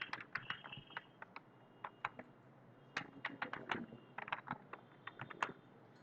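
Keys clatter on a computer keyboard as an address is typed into Excel, in quick irregular bursts of soft clicks with short pauses, close and quiet, with no talking.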